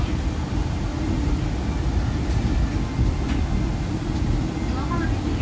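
The Logawa passenger train rumbles steadily from inside a carriage after departing Purwokerto station, a constant low roar with faint rattles and squeaks, under quiet background murmur.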